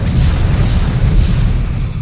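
Explosions in the space combat game Star Trek Bridge Commander rumble as a loud, dense, sustained boom with heavy low-end roar and no clear gaps.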